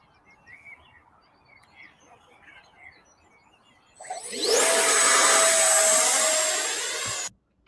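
A Model AV8R RC airplane motor starts on the plane's first flight with a sudden loud, high whine that holds steady for about three seconds and then cuts out. Faint outdoor chatter and bird chirps come before it.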